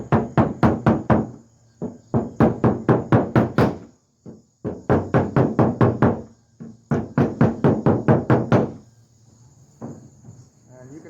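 A hammer strikes a caved-in car roof panel in fast bursts of sharp metallic knocks, several runs of rapid blows separated by short pauses, loud and close.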